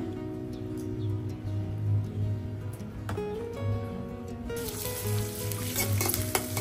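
Onions sizzle loudly as they drop into bitter gourd and thin-cut potatoes frying in oil, a steady hiss with a burst of fresh crackle partway through and a few clinks of a utensil.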